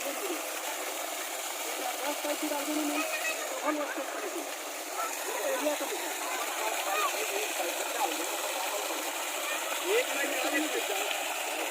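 A strong jet of water pours from the outlet pipe of a newly fitted 10 HP borewell motor, giving a steady rushing, splashing hiss that runs the whole time at a moderate level under faint talk.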